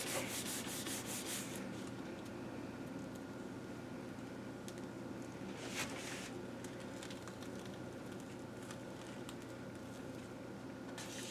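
Paper rubbed by hand over a gel printing plate coated with paint, a soft, continuous close-up scuffing and brushing that runs steadily throughout, quiet with a faint background hum.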